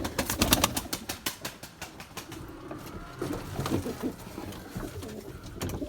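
Pigeons coo softly and repeatedly, with a quick flutter of wings at the start, against light outdoor background noise in the rain.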